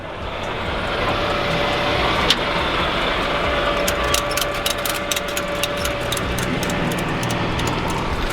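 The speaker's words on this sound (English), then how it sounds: "There's a bad truck running" At a Copart auction yard, a truck engine runs in a loud, continuous rumble with broadband roar and a faint whine. Scattered sharp ticks and clatters sound over it, and no one speaks.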